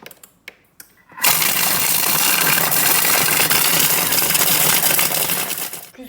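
A Thermomix food processor spins at speed 7 grinding bread into crumbs, starting after a few light clicks and holding a loud, dense whirring roar for about five seconds before easing off.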